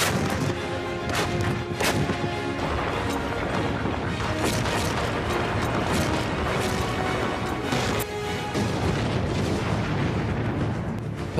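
Bofors howitzer artillery fire with repeated heavy blasts and crashing reports, loud and dense, continuing throughout with rumbling between shots.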